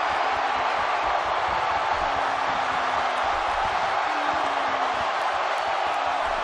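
A video game wrestling arena crowd in WWE 2K18 gives a steady, dense roar of cheering that holds at an even level throughout, with a faint tonal hum underneath.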